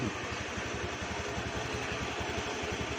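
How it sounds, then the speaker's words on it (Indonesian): A motorcycle engine idles smoothly and steadily after a roller replacement, a close, even low putter with a regular rhythm and no voices. "Suara mesin sudah halus."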